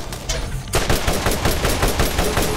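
Rapid automatic gunfire in the video game Borderlands, loud and close, a dense run of shots starting after a brief quieter moment and continuing to the end.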